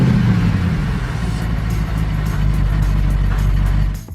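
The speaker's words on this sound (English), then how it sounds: "Isaac turns on the ignition." A blue 2015 Toyota Corolla's engine comes to life and holds a steady, loud idle with a low throbbing rumble, continuing for several seconds before easing off at the end.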